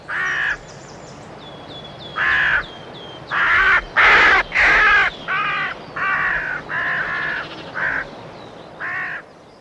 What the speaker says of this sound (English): he grabs the rabbit and the crows rise in flapping pursuit